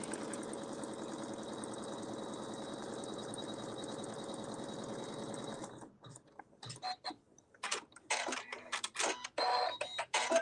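A sewing machine stitches a nesting basket with a steady, rapid mechanical hum for several seconds. It then stops, and short bursts of stitching and clicks follow.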